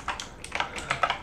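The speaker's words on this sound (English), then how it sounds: "I accidentally pressed page down," Computer keyboard keys, including page down, are pressed in a quick uneven run of about six crisp clicks heard close up, with no talking.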